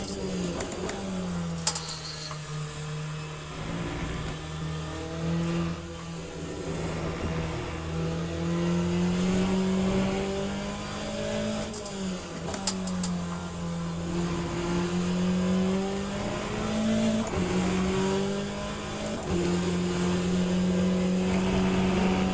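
GTE race car engine in the sim racing game Le Mans Ultimate, a loud steady engine note rising and falling with throttle and gear changes throughout, the car held on part throttle through corners.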